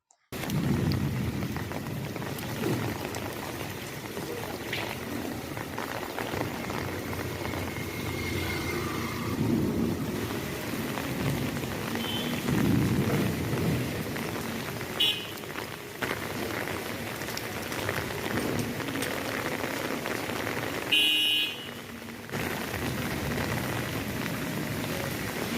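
Heavy night rain pours steadily in Puducherry, a dense, continuous hiss with a few brief louder splashes and clatters, with no voices over it.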